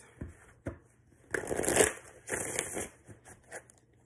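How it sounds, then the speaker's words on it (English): Tarot cards shuffled by hand during a reading, giving bursts of papery riffling and crisp slapping, with a couple of short taps at the start and a long busy shuffle in the middle, close and fairly quiet. "I gotta figure out how to shuffle less for each one."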